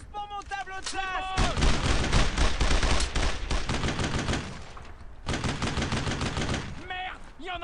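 Rapid bursts of automatic and rifle gunfire from the World War II shooter Brothers in Arms: Road to Hill 30 come loud and dense in long volleys, with brief pauses and short shouted voices between them.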